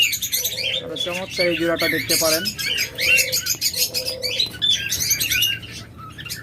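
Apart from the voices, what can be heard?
pet birds chirping and flapping: lovebirds, budgerigars, finches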